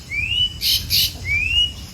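Small bird calling near a chick in a rural farm setting, giving a few thin rising chirps and short squawky bursts spaced across the moment over low background rumble.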